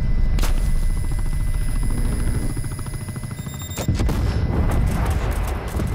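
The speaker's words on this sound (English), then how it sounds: "Netcall, incoming artillery." Artillery strike in the game Call of Duty: Black Ops Cold War, a loud, continuous barrage of rumbling impacts and rapid gunfire with a couple of sharp cracks standing out, dense and close throughout.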